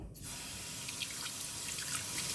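Tap water runs steadily into a sink while fresh spinach is washed, a continuous close hiss with faint drips and splashes, no voices.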